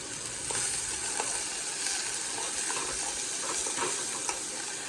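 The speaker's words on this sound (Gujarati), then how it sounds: "ટામેટા પણ નાખી દીધા ફાઇનલી, મસ્ત મજાના ટામેટા નાખી દીધા" Tomatoes hit a pan of frying onions and green chilies for an Indian egg curry. A loud, steady sizzle and crackle continues close up with occasional stirring scrapes, and no one speaks.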